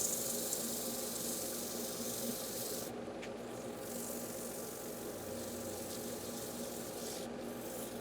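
A maple bowl being sanded with 180-grit sandpaper, heard as a steady, continuous rubbing hiss close by over the constant hum of a dust extractor, with no talking.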